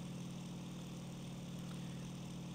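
A propeller plane's engine in IL-2 Sturmovik 1946 idles with a steady low drone and even, throbbing pulse, constant and unchanging, no voices over it.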